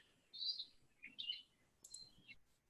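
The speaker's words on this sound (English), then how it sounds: "I hear some beautiful birds" Birds singing outdoors, a few short bright chirps and tweets in quick phrases, faint and somewhat distant, with no talk.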